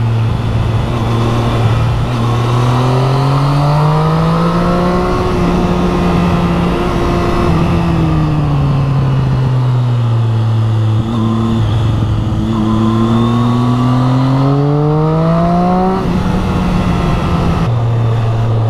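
Triumph Street Triple 675R motorcycle accelerating on a ride around Coeur d'Alene Lake, its engine note climbing and falling through several gear changes with steady wind noise, loud and close, no talking.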